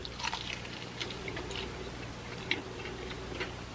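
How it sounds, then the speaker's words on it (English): Crunchy KFC fried chicken is chewed close to the mic, giving soft, irregular crunches and wet mouth clicks over a faint steady background hum. "Now, I chew with my mouth open so you could hear the crunch."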